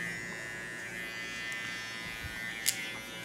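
An electric hair clipper fitted with a number 1 guard buzzes steadily while cutting a boy's hair, a close continuous whirring drone with a brief louder snag near the end.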